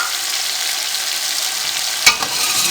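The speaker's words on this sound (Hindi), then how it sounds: "अब इनको हम 1 से 2 मिनट के लिए अच्छे तरीके से फ्राई कर लेंगे।" Cumin, cloves and black peppercorns frying in a pan, a steady close hiss of sizzling oil with a brief clatter of stirring near the end.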